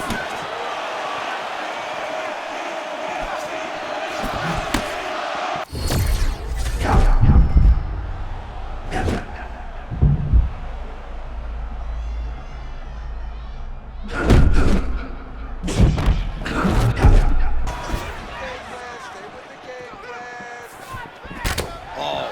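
Punches land in a UFC 6 video game fight between Max Holloway and Tony Ferguson as a series of heavy thuds and slams, some single and some in quick clusters, with commentary voices under them.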